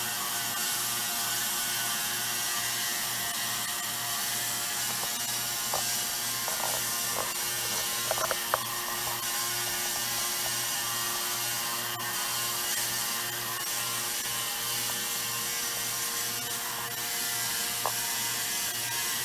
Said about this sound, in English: We're going to turn the motor on now, and you can see the records start to spin.